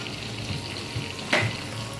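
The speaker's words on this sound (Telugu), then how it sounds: "ఆయిల్ వేడెక్కుతుంది" Cooking oil heats in a pan before onions go in for a fish curry, giving a steady low sizzle and crackle throughout, with a brief louder spatter near the end.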